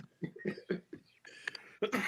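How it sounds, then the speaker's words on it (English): A person with a lingering cough coughs several times in quick, fairly close bursts, mixed with breathy throat sounds and a brief chuckle, during casual storytelling. "Y'all know I got this cough."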